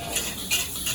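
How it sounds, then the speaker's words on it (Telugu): Vegetables for chicken fried rice are stirred and tossed in a pan, giving quick scraping and clinking strokes against the metal in a steady rhythm, close and moderately loud. "ఇంకా దాన్ని బాగా మిక్స్ చేసి"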